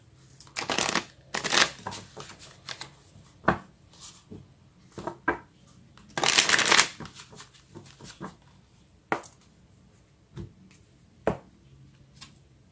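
Tarot cards shuffled by hand in repeated bursts of riffling and slapping, close and fairly loud, with short pauses between passes and no talking.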